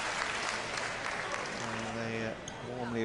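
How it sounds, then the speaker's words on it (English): Crowd applause breaks out in the arena after the opening point of the second game in a 2015 US Open women's doubles badminton final, a steady dense clapping lasting throughout. "they warmly applaud that opening point of this second game for the Japanese pair"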